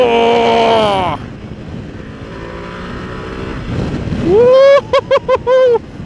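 A 2025 Ducati Multistrada V2 motorcycle accelerates hard on a twisty road. The engine note climbs loudly and then drops off, followed by wind noise and another steep rising rev that breaks into quick stuttering bursts.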